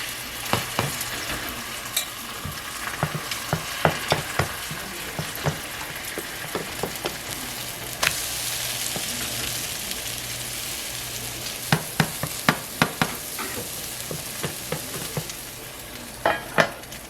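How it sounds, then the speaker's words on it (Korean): Steady frying sizzle of cabbage batter in an oiled pan with repeated sharp scraping and tapping clicks from a utensil, close and fairly loud, no talking. "오일을 두른 팬에 반죽을 넣어 식빵 모양으로 예쁘게 만들어 줄게요."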